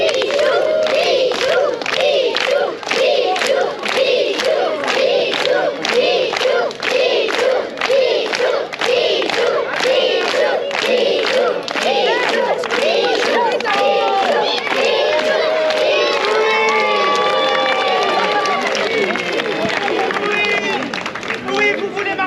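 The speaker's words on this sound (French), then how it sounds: "il va falloir crier son nom et taper dans les mains" A large crowd at the Guérande medieval festival chants a name in rhythmic unison and claps along. The loud, dense shouting keeps a steady beat and later breaks into scattered cheers and calls.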